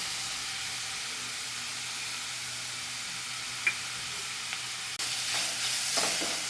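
Masala with hot chillies sizzling in a pan for a Gujarati paneer cutlet, a steady close frying hiss throughout with a brief crackle midway and a brighter, louder surge of sizzling toward the end.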